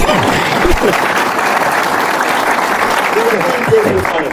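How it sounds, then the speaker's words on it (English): Studio audience clapping on a Nigerian quiz show, loud and continuous close applause with a few voices calling out faintly underneath. "please put your hands together"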